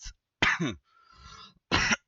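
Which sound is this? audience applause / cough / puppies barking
cough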